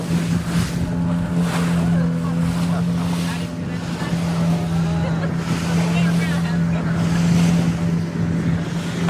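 A motorboat runs through mangrove backwaters in Pondicherry with a steady engine drone, while water splashes and slaps in bursts as the hull bounces. Faint voices are mixed in.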